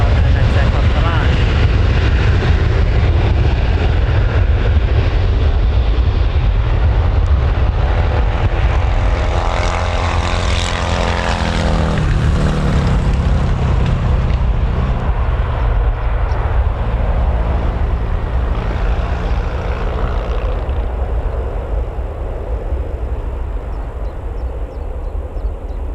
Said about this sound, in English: we've got a Jet2 as well approaching finals